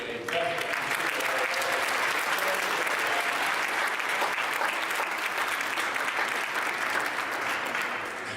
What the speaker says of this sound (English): can we give another round of applause to the PHA?